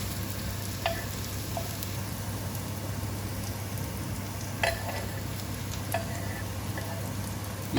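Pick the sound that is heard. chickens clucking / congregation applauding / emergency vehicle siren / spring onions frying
spring onions frying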